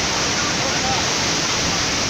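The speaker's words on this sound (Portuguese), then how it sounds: "isso aqui já é a cachoeira aqui" Rushing water roars in a dense, steady wash of noise from a waterfall close by on the Rio do Sono in Brazil.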